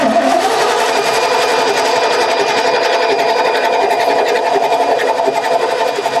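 Starter on a 1989 Ford F150 pickup with a bad start solenoid cranks the engine in a loud, steady whirring drone that holds continuously for several seconds.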